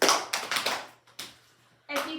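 A group of children in a classroom clapping, heard as a few sharp close claps followed by a scattered trailing clap, with brief children's voices at the end.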